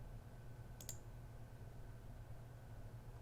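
A quick double mouse click in the tactics game Mana War, faint and close, over a quiet steady hum with no other activity.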